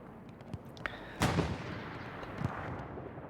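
Distant artillery fire in Hell Let Loose, several dull booms and cracks with one sharp louder blast near the middle, spaced irregularly over a faint battlefield rumble.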